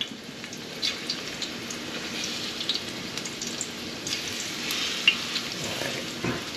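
Fish fillets fry in hot oil, giving a steady close crackling sizzle with scattered sharper pops and no voices.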